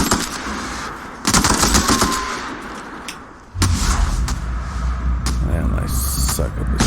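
Video game gunfire rattles in loud, rapid machine-gun bursts that run almost nonstop, with a booming roar swelling underneath partway through.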